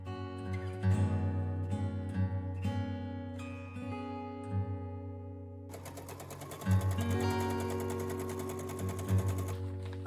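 A sewing machine restitches a quilt piece for a Christmas quilt in close, steady runs of rapid mechanical whirring, starting and stopping in short bursts before one longer continuous stretch, with faint music in the background.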